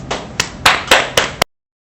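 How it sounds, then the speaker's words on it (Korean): Several hand claps ring out in an uneven rhythm, about five or six sharp, close claps over a second and a half, welcoming a speaker at a Korea-US business friendship forum, then silence. "큰 박수로 맞아주시기 바랍니다."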